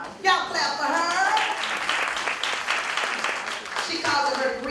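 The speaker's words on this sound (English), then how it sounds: "Y'all clap for her." Audience applause fills a room during a grief support session, a dense steady wash of clapping lasting several seconds with a voice talking over it near the start.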